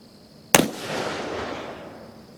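A Colt 1861 Navy revolver by Uberti, loaded with a custom 130 grain bullet over 20 grains of 3F powder, fires a single sharp shot that rings out and decays over about two seconds in open air.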